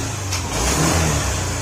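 A Honda Click 125 V3 scooter engine, recently repaired after it would not start, runs close by with a steady mid-pitched drone and swells briefly in a short rev.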